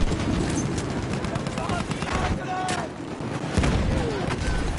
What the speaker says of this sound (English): Oh, you're under fire.